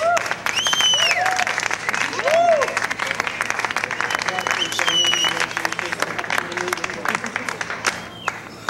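An audience at a stand-up comedy show breaks into lively applause, sustained clapping with some crowd noise, while a voice speaks over it in places.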